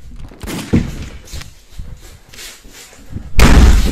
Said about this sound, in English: something is hitting the door